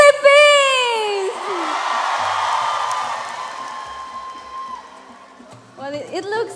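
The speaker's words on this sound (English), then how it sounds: "what do you think of the crowd over here? Let me see. How is Philippines?" A pageant audience at the Miss Earth 2017 final roars for the Philippines, with loud whoops, screams and yells swelling at first and then fading into a long, sustained crowd roar, before a voice speaks near the end.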